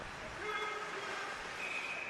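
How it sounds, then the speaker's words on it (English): Referee's whistle at a Tier 1 CPHL hockey game between the Raiders and the P Stars, a brief relaxed tone heard at a distance over steady arena noise and crowd murmur. "a relatively casual whistle there"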